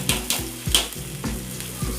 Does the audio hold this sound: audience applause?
no